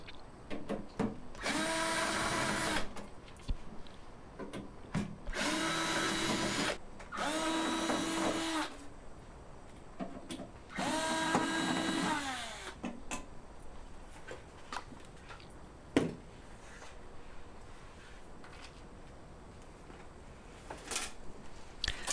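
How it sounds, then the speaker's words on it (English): A power screwdriver backs screws out of the back panel of a Paragon SC-Series kiln, with four loud whirring bursts of about one to two seconds each, followed by quieter clicks and handling noises. "Remove the screws holding the back panel to the kiln."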